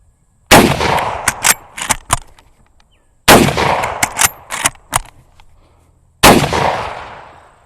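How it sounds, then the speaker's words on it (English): A carbine rifle fired quickly in three bursts of sharp, loud reports close by, each shot trailing a brief echo, with short silences between the groups. "I'm going to try to shoot these last 3 fairly quickly, just to kind of show the action being run fairly fast"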